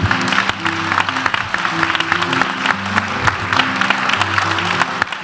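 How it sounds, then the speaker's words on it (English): Applause from an audience at a mayoral candidates' forum in Minneapolis, a dense, steady clatter of many hands clapping that fills the room and carries on without pause. "So please, a tremendous round of applause."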